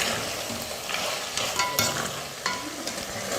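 Mutton pieces sautéing with mutton masala in an oily pan, a steady close sizzle and fry hiss with occasional scrape-like stirring accents, heard alone without talk.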